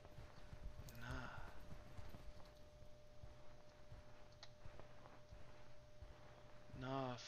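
Footsteps in a Backrooms horror video game, a steady run of soft, regular clip-clop taps at low level, with a short vocal sound near the start and another at the end.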